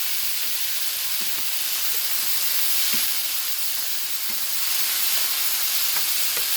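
Tomatoes and garlic fry in a pan with a bright, continuous sizzle and hiss, close and steady, broken by small crackles and pops, with no voices.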